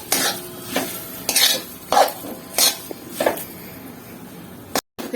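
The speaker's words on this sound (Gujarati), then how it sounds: "હું હજુ પણ માવાને મિક્સ કરું છું" Mawa is stirred and roasted in a pan for gund pak, a winter sweet, with rhythmic scraping strokes of a spoon against the pan repeating about every half second up close, and no talk, then a brief cut near the end.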